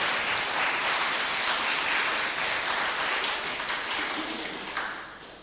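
Audience clapping at a spiritual discourse, a dense burst of applause that holds steady and then gradually fades out.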